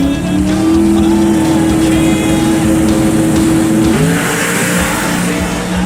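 Flying Finn Pro Mod drag race car roaring loud and close as it accelerates down the strip, a sustained engine howl with rising pitch and a gear change near the end.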